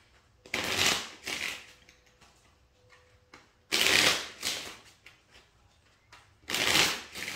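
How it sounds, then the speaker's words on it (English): Cards being shuffled and pulled for a pick-a-card reading: three close, crisp bursts of riffling with quiet gaps between. "I'm going to pull 2 more cards"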